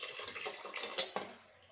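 Water poured into a pot of country chicken curry, a short splashing pour with a sharp spike midway, heard on its own in a home kitchen.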